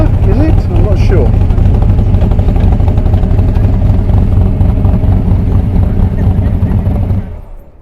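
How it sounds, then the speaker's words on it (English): A 1968 or 1969 Chevrolet SS Camaro muscle car engine running loud and close, a steady heavy rumble throughout that cuts off near the end, with some voices underneath. "the car we heard running very recently is this Chevrolet"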